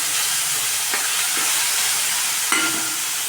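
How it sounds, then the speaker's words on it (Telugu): Ginger paste fries in a pan in a home kitchen. A steady, dense sizzle hisses throughout, with a few soft clinks of stirring. "ఒక స్పూన్ అల్లం పేస్ట్ వేసుకున్నానండి నేను. మంచి కలుపుకోవాలి."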